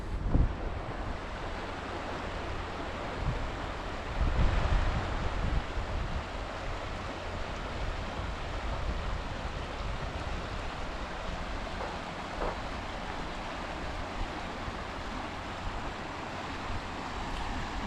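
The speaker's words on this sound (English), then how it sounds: "the sound of the river" Steady broadband rushing of a flowing river in New Mexico fills the whole stretch, constant and fairly close, with a brief swell in loudness partway through.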